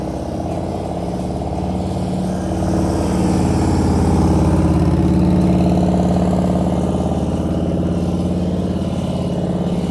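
Motorcycle engine idling and putting along during slow-speed riding practice, a steady close rumble that swells slightly with a bit of throttle, then settles back.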